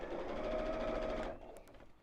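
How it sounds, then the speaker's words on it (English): Close sewing machine stitching around the top edge of a fabric water bottle carrier, a brief quiet whirring run that stops after about a second, followed by near silence. "So I'm just sewing around the top, and I'm sewing quite close to the edge"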